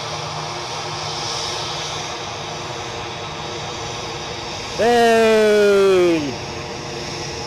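An EasyJet Airbus A320-200, fifteen years old, departs Edinburgh with a steady distant jet rumble throughout; partway through a loud falling horn-like tone cuts in briefly, and a voice shouts once.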